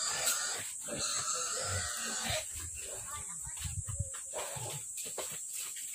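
A pig grunts and squeals with wheezing snorts as it is tied up before slaughter for a village fiesta, close and agitated under the overlapping voices of several people.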